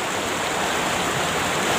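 River water rushes steadily through a stream, a dense continuous broadband wash at a fairly loud, close level that holds even throughout with no voices.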